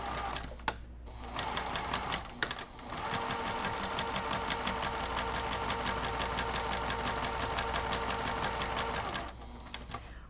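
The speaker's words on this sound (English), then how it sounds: "I'm just going to start sewing and back stitch at the beginning and ending." A sewing machine set to a 2.0 stitch length stitches a cross stitch band in one long continuous run, its needle clattering rapidly and rhythmically up close after a brief start.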